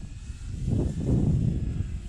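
A small radio-controlled model propeller airplane buzzes faintly in the distance at a park in Dothan, its engine note swelling and fading slightly as it passes.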